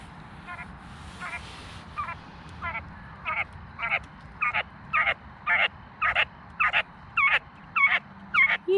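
A small hen, kept among quail, clucks in quick repeated chirping calls that grow louder and more regular, one burst every half second or so, close to the listener over a low background hum.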